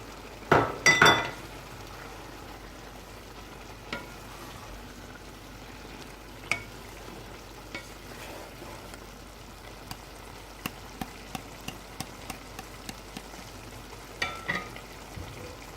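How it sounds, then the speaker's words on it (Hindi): A spoon stirs chopped coriander through beef yakhni pulao in a cooking pot, giving a quiet, steady scrape and faint sizzle with a burst of clinks near the start and scattered light taps of metal against the pot. "अभी मैं धनिया डालूँगी और इसे एक दफ़ा मिक्स करूँगी।"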